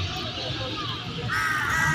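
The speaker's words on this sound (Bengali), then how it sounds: "দেখেন পাখিও তার নীড়ে ফিরে যাচ্ছে।" Crows caw from a rooftop after heavy rain as birds fly back to their nests, the harsh calls rising clearly near the end over a steady outdoor wash of ambient noise.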